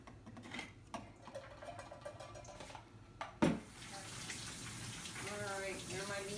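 Drained beans are rinsed under a running kitchen tap, a steady hiss of water following a few clinks of pots and dishes and a sharp knock.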